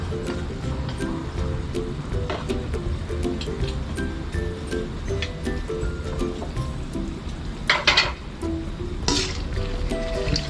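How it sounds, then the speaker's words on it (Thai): Chilies fry in hot oil in a pan, a steady crackling sizzle with scattered pops and a couple of louder spatters near the end, no one talking. "พริกก็ทอดแป๊บเดียวค่ะ"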